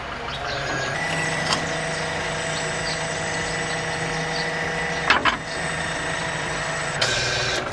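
A warning alarm on a Tadano one-ton, three-section crane mounted on a 2021 Toyota Revo 2.4 pickup, a steady continuous tone sounding over an idling engine hum, with a few brief clunks partway through.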